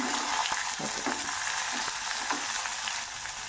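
Mustard seeds and cumin fry in hot oil with curry leaves, giving a loud, steady, close-up sizzle broken by sharp crackles and a few spatula knocks, with no talking.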